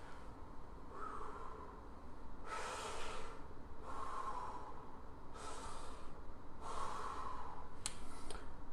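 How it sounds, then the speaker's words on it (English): Slow, calm deep breathing exercises: four long, loud airy breaths spaced a few seconds apart, each a drawn-out inhale or exhale, with no talking between them. "I'm going to take a couple of minutes and do some calming deep breathing"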